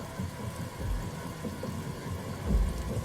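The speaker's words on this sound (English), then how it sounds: "A crack of lightning sounds nearby as the thunderstorm gathers." A thunderstorm effect with steady rain hiss and low rolling thunder rumbles swelling twice, dense and constant throughout, with no voices.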